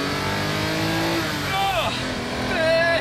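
Lamborghini Countach engine revving hard up toward 7,000 RPM, a loud, steady rising roar with rich harmonics heard from inside the car, with wind noise and a voice speaking over it.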